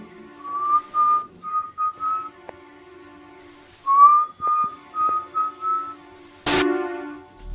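Two runs of clear, high whistled notes, each a short rising glide followed by several steady tones, imitate the eerie whistle of the tunche spirit of the Amazon jungle. A brief sharp noise near the end, with no talking.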